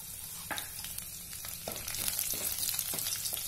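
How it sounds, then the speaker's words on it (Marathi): Garlic fries in hot oil in a pan while it is stirred, with a dense, steady sizzle and a series of quick spatula scrapes and taps close by, with no speech. "तेल गरम झालं की लसूण आपण थोडा फ्राय करून घेऊया."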